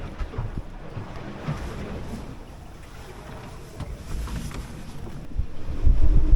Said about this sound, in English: the winds are just a little too strong. They came up pretty fast